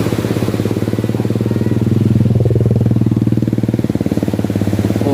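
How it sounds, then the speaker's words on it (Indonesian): A motorcycle engine chugs steadily on a village road in Sumedang's countryside, loud and close the whole time, its thumping firing rhythm swelling slightly as it passes near. "Ada motor."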